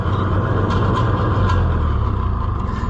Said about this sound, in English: Good auger, good.